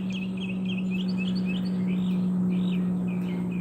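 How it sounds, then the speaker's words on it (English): Robins sing outdoors in a run of bright, warbling phrases over a steady low hum and background noise, fairly faint and with no talking. "I didn't believe the robins were so vocal."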